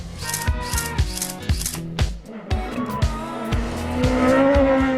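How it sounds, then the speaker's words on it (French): Rally cars in the Tour Auto de la Réunion 2015 roar past one after another in the rain, revving high with tyre noise and hiss from a wet road, loud and close. "Les premières voitures sont assez impressionnantes et avec la pluie, il y a un petit peu de glisse"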